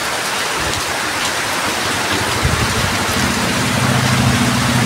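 Heavy rain pours down steadily in a dense, unbroken hiss, with a low rumble of passing traffic joining toward the end; no one speaks.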